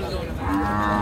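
A Sahiwal cow moos at a crowded cattle market in Chapainawabganj, Bangladesh, one short, low, near call lasting about a second against faint background murmur.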